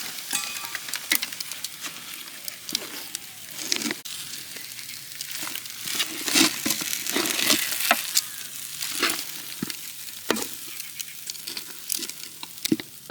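Thick jamun fruit halwa stirred in a pan in a village kitchen, with cashews and raisins added: a steady crackling sizzle broken by repeated scraping, clicking strokes of the spoon, close and fairly loud, with no voices.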